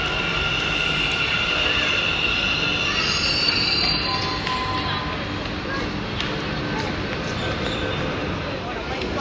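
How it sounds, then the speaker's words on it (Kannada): A metro train rumbles steadily nearby, with a high metallic squeal of wheels on rails rising over the continuous roar. "ನಾವು ಬರೋ ಟೈಮ್ಗೆ ಮೆಟ್ರೋ ಕೂಡ ಬಂದಿತ್ತು"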